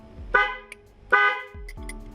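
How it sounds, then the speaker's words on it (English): Two loud car horn honks from a horn button on a quick-release steering wheel, each a sustained harmonic blare lasting about half a second, separated by a short pause, with faint clicks between them. "and if it honks, then you're good"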